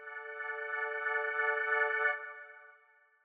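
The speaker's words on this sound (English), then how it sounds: "This pin is the B3 V2 Leslie." A B3 V2 organ patch played through a Leslie rotary speaker effect, one sustained rich harmonic chord with a gentle swirling warble, cutting off partway and fading out with a soft decaying tail.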